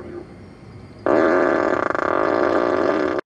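A Tesla's Sentry Mode plays a fart sound effect through its external speaker, a loud, sustained, buzzing blast lasting about two seconds after a brief quiet lead-in, then cutting off abruptly.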